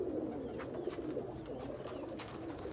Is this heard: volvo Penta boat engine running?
no